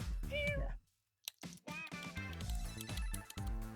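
A pet cat meows twice, close and fairly loud, first a drawn-out call then a shorter one after a brief pause, over a busy background of music and game sounds.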